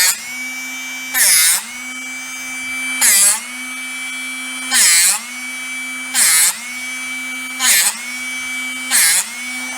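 A power drill spins up in short bursts to sharpen a drill bit held in a bit sharpener, with a steady motor whine between brief, loud grinding pulses repeating roughly every one and a half seconds, close by.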